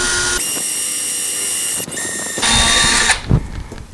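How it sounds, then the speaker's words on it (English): A power drill bores a hole for a cat door, whining in steady bursts with short pauses between them, close and loud with no talking. "So hold your drill nice and straight."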